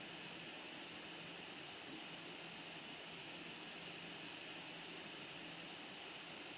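Steady broadband jet engine roar of a Boeing 747 airliner during pushback in the Infinite Flight simulator game, a continuous even whine and rumble with no voices over it.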